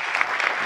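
Studio audience applauding on an Iranian TV comedy show stage, a dense burst of many hands clapping that fills the short moment on its own.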